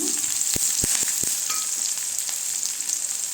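Onions and curry leaves sizzle steadily in hot oil in a pan for wheat rava upma, a loud continuous hiss with a few sharp clicks of a spoon stirring early on.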